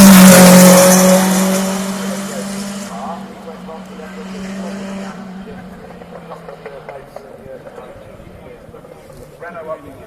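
A Renault 5 Maxi Turbo rally car with a 1600cc turbo engine at a classic hill climb, roaring loudly nearby as it accelerates away, then fading into a more distant rumble mixed with crowd noise.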